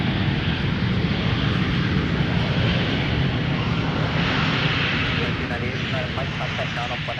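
United Boeing 737 airliner at Minneapolis–Saint Paul airport, its engines giving a loud, steady broadband roar that covers the whole stretch and eases slightly near the end.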